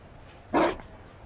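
A Mabari war dog in a video game lets out one short, loud bark close by against a quiet background, with no speech around it.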